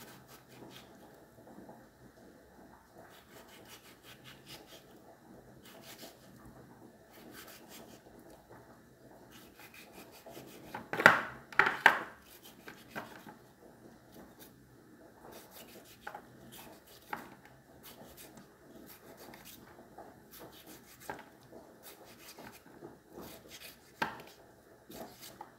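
A knife slices a single large tomato on a cutting board for a simple tomato salad while other food cooks, making soft, scattered cutting and board taps with a brief louder cluster of chops midway, quiet throughout.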